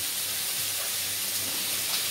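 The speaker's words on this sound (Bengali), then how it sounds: "পেঁয়াজ ভাজা হচ্ছে" Onions fry on a village clay stove with a steady, close sizzling hiss that runs unbroken throughout, with no voices.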